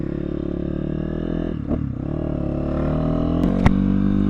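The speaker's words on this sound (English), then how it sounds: "Alright guys, here we go on the Kayo K6-250. Just a couple twists of the grip" A Kayo K6-250 dirt bike idling steadily with a loose mechanical clatter, then given a couple of quick throttle twists that bark up sharply near the end, close and alone.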